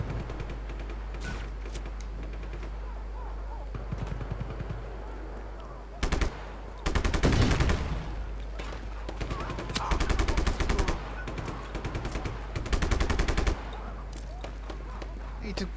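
Bursts of rapid automatic gunfire in the video game Just Cause 3, several loud volleys of machine-gun fire at irregular intervals over a constant low game hum, with a player talking at times.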